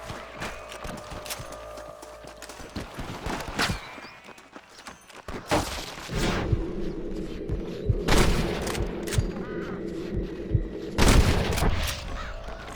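Red Dead Redemption shootout with dense bursts of gunfire and booming shots, a continuous rumbling din underneath, intensifying in the latter half with sharp loud reports.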